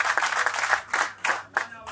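Audience clapping at an album launch event for a musician, a loud burst that breaks into separate short rounds of claps trailing off toward the end, with some talk in the background.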